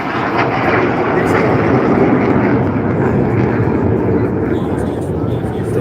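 A jet aircraft roars past with afterburner lit at the Blackpool Airshow, a loud steady broadband rumble and hiss held throughout, with faint crowd voices beneath.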